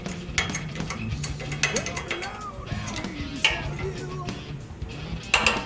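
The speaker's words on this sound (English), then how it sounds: "With the axle out, we can now press out the bearing" A press forcing a bearing out of a pedal car axle gives irregular metallic clicks, creaks and grinding under load. The sound is close and varied, with scattered sharp knocks throughout and no speech.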